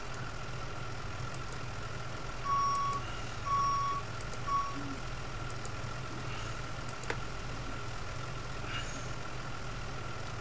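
Reversing beeps from an old truck in the firefighting game Into the Flames, three clear tonal beeps evenly spaced early on over a steady low engine idle, with no talking.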